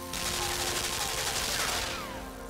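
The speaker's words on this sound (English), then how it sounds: "we got fucking machine guns and shit fucking trying to kill us" Continuous dense gunfire from machine guns in the side-scrolling video game Limbo, a loud sustained burst lasting the whole moment and easing off slightly toward the end, with no voices.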